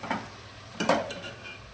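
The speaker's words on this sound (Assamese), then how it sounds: "এতিয়া ধুনীয়াকৈ লাৰিম, লাৰি কিনে অলপ ভাজা কৰিম" A spoon scrapes and stirs through vegetables with cumin and salt frying in a pan for a fish curry, a few short clattering strokes over a low sizzle.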